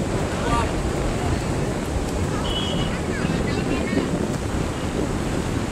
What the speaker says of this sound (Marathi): थंड एकदम मस्त मोकळं अथांग समुद्र आहे हा.